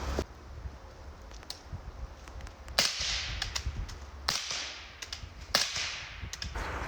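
Four sharp subsonic .300 Blackout rifle cracks ring out from about 25 yards, spaced a second or more apart, with faint ticks and rustles in between.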